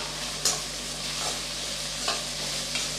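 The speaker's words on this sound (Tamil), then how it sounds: "எல்லாத்தையும் சேர்த்து நல்லா வதக்கி விட்டுறலாம்" Capsicum and shredded cabbage stir-fried in a pan for egg fried rice: a steady close sizzle broken by four scraping stir strokes at roughly even intervals, with no talking.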